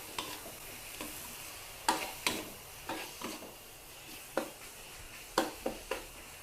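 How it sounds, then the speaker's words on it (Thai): Long beans stir-fry with red curry paste in a pan. A soft background sizzle sits under irregular scraping strokes of a spatula against the pan, some sharper than others. "ใส่ถั่วฝักยาวลงไปใส่ลงไปเลยจ้า จากนั้นค่ะเราก็ผัด"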